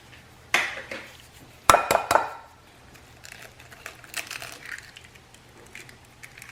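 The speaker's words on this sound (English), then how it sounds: "Okay, let's crack 2 eggs." Eggs cracked against a bowl for a pumpkin spice cake batter: a sharp tap, then a cluster of quick hard knocks, followed by faint shell and kitchen handling noises in a quiet room.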